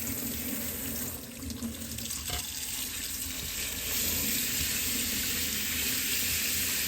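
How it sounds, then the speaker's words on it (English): Tap water runs steadily into a sink while a part from a DeLonghi Magnifica espresso machine is rinsed, a loud continuous close splashing hiss with small shifts in the flow. "We'll just clean it with normal water"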